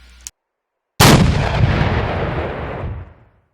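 A single loud high-explosive round fired from a tank in an Arma 3 war mod, sharp onset followed by a long rumbling decay of about two seconds.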